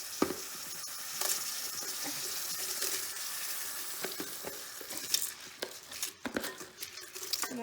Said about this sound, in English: Oh no, the sizzle is gone.